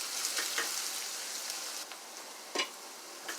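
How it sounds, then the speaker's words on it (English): Onion sautéing in a pan for fish choka gives a soft, steady hiss of frying with a few brief louder pops and crackles. "I'm gonna let this saute here for about 2 to 3 minutes"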